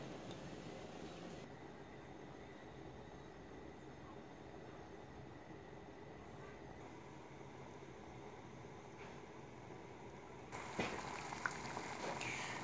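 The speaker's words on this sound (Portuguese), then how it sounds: "Começou a ferver," Steady low rumbling hiss of water for orange tea heating and starting to boil in a pot, continuous and fairly faint, with a brief clatter near the end.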